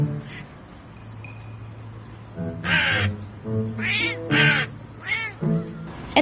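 A crow gives loud, harsh caws in several separate bursts over a few seconds, close by, with a cat nearby and a low steady hum underneath.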